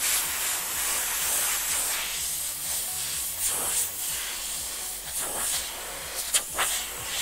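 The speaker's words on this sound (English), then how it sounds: "So now I'm airbrushing the side of the shoe" An airbrush sprays paint onto the side of a Vans sneaker being custom painted with a Spider-Man design, giving a steady, close hiss that runs throughout with brief bursts and pauses between strokes.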